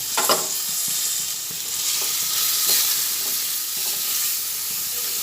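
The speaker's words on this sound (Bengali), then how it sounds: "সব একসঙ্গে দিয়ে একটু নাড়াচাড়া করে নিচ্ছি" Chicken and fried spices stirred together in a pan for chicken ghugni, a loud, bright, continuous sizzle with occasional scraping stirs near the start and middle.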